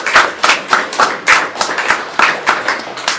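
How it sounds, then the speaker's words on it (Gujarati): An audience at a live talk event clapping loudly in rhythmic bursts, about a dozen hard, evenly spaced claps that sound like a few hands close by rather than a large crowd. "એક વખત જોરદાર તાળી"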